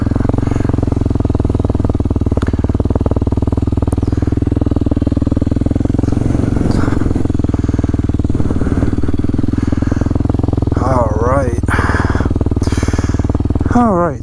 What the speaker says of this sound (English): do a couple little figure eights just to get the tires warmed up, get the bike warmed up a little bit